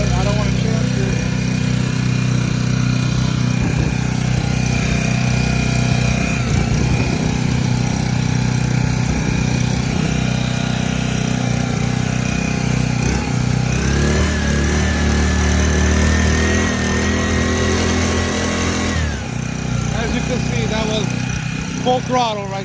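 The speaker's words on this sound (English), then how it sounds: "Full throttle right there." A 4-stroke 5hp 82cc air-cooled petrol outboard motor runs at full throttle, a loud steady drone with strong low harmonics that holds throughout and dips slightly near the end, with people talking over it.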